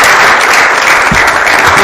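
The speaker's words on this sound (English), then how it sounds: "should we give them a little clap?" Workshop audience clapping together, a steady dense patter of many hands filling the room from start to finish at close range.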